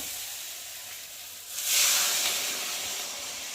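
Water is poured into a hot pan of fried potatoes for a fish curry, setting off a sudden swelling hiss of steam that peaks and slowly fades after a quieter sizzle.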